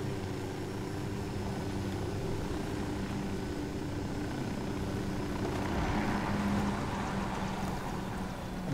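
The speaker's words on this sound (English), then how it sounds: "land the helicopter here." A helicopter in the video game Tom Clancy's Ghost Recon Wildlands comes in to land, its engine and rotor making a steady, dense droning rumble that swells slightly toward the end.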